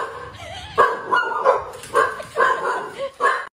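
Several pet dogs bark at a life-size plush dog indoors, giving a close series of sharp barks and yips in quick bursts, with some whimpering between them.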